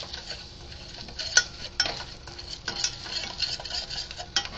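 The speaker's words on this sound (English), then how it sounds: "let me go ahead and kind of like stir this around" Flour being stirred into milk in a pot for an old-fashioned white sauce, with soft irregular scraping and light utensil clinks against the pan, fairly quiet and close, no talking.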